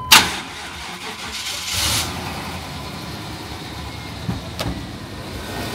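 A car engine cranks and catches, then settles into a steady idle nearby, with a brief rev partway through.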